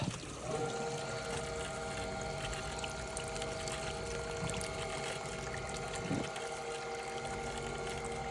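Water runs steadily with a constant hiss and a low mechanical hum underneath, continuing without a break throughout.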